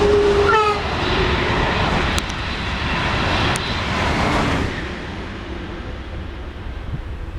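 The Italian diagnostic train Aiace 1.5 passes, a loud steady roar of rolling wheels and rumbling carriages, with a brief horn-like tone near the start, fading slightly toward the end.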